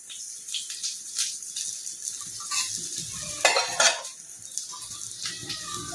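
Small fish frying in mustard oil in an iron wok, a soft crackling sizzle with scattered metal scrapes and clinks of a utensil, including a louder burst of spatter and scraping midway, close and without talk.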